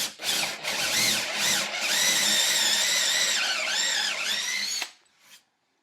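A countersink bit with a depth-stop rib drills string and ferrule holes through a guitar body by hand, without a drill press: a loud, continuous whining drill run for about five seconds, its pitch dipping under load, then stopping abruptly.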